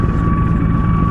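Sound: low-flying helicopter, probably military

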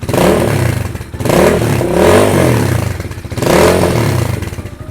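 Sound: GPX Legend 200 motorcycle exhaust revving

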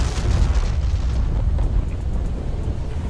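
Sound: star exploding in Roblox video game

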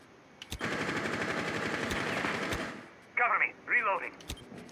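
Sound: gunfire in Rainbow Six Siege video game

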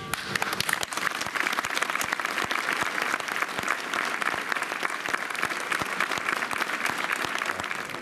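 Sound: long applause at funeral as coffin leaves church

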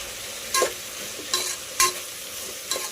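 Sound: stirring broad bean curry in a pan

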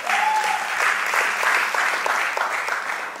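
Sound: audience round of applause

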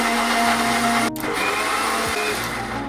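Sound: blender running while making milkshakes

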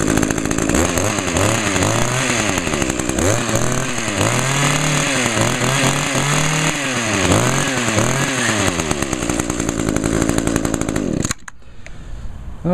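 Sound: chainsaw with 20 inch blade and 21.2 cc engine running

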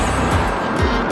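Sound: car traffic passing on park road

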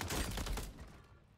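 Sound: gunfire in Call of Duty video game

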